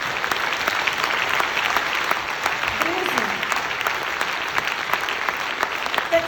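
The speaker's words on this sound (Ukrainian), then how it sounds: "Аплодисменти." Audience applause at a business talk by Nataliia Krasii, a dense steady wash of many hands clapping that fills the whole stretch without a break.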